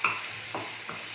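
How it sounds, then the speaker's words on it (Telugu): A spoon stirs Chicken 65 into gravy in a pan, making a few soft scraping strokes over a faint sizzle, with no one talking. "ఇప్పుడు ఈ చికెన్ని ఈ గ్రేవీలో మిక్స్ అవ్వాలి. అప్పుడు వరకు ఇలా కలుపుతా"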